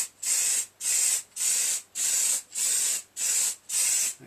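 Spray paint hisses from an aerosol can in seven even, separate bursts with short gaps between them, close and steady, while a Harley 883 Iron belly pan is painted in a garage.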